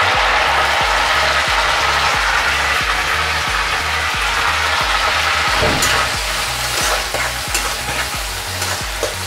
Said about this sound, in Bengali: জিরের পর আমি পেঁয়াজ কুচিগুলো দিয়ে দিচ্ছি।